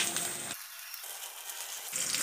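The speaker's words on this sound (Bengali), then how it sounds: "এবার পরোটাগুলো ভেজে নেব" Cauliflower parathas frying in hot oil in a wok give a bright, steady sizzle at close range. It stays continuous, with a quieter patch in the middle before it swells again, and no one speaks.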